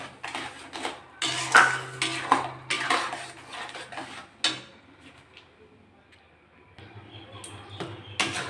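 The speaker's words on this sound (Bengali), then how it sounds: "এরকম করে অনবরত নাড়তে হবে, না চোলায় লেগে যাবে।" Raw mango pulp with sugar being stirred in a pan, a spoon scraping and clinking against the metal in irregular bursts, close and moderately loud with a low background hum.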